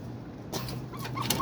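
A sweater gamefowl chicken kept for breeding clucks softly. Brief, fairly faint clucks and rustling rise midway through a short stretch, with no talking.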